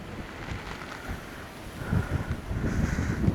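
Steady wind rushes and buffets the microphone on a cloudy hill trek at Madhugiri, growing stronger toward the end with low rumbling gusts.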